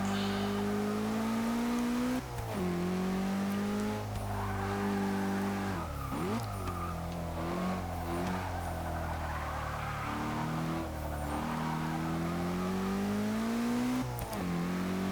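A 2015 BMW X6 M in Forza 6 roars loudly and continuously as its engine climbs in pitch through repeated upshifts with brief dips between gears. Tire squeal mixes in along the way.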